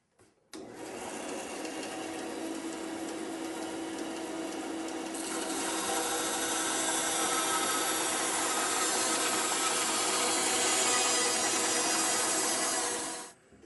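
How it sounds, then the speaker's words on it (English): Band saw ripping an elm log into planks, a continuous close rasping hum of the blade cutting through wood that grows slightly louder and brighter midway before the cut ends abruptly. "we can just start ripping pieces off of here, making planks just like a sawmill would"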